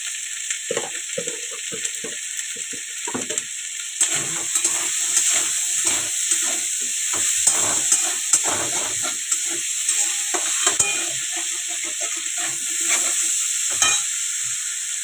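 A spice mixture with cumin powder and a little sugar sautéing in a pan, a constant high hiss of frying overlaid by repeated scraping stirs and small crackles, steady and close.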